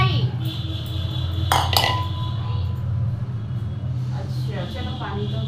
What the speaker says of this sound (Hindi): बर्तन भी धो रहे हैं।